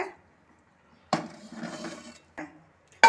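A metal spoon scrapes and clinks against a pot of sambar as dal is stirred in, in a few short bursts, with near silence between them.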